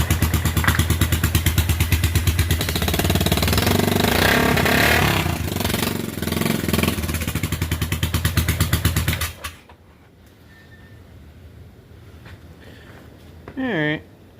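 A Yamaha Big Bear ATV engine fitted with a turbo runs loudly and close, a fast rhythmic chugging clatter for about nine seconds before it cuts off abruptly, leaving quiet with a brief sound near the end.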